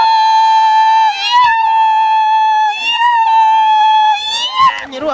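A group of Kenyan women basket weavers celebrate with loud, high ululating cries. Several voices hold and waver together in sustained joyful calls, and a final burst comes near the end.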